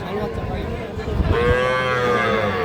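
At a cattle market selling small bulls and heifer calves, a loud, close bovine moo swells and holds, with market murmur beneath.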